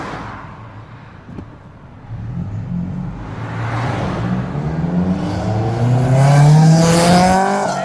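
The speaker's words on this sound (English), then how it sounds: "We got to pull over and let the cars go by." Cars drive past on a residential street near an apartment complex, engines rising and swelling as they approach, loudest near the end with a tonal whine sweeping upward, no talking.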